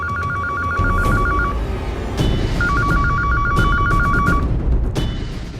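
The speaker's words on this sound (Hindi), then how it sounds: "किसका फोन था?" Telephone ringing in a rapid electronic trill, two bursts about a second apart, loud and close, over a low background rumble with no talk.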